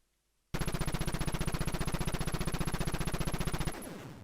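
Rapid, evenly spaced retro video game gunfire from Contra, a long steady burst of chiptune shots that cuts in sharply and runs for about three seconds before fading out, loud and alone.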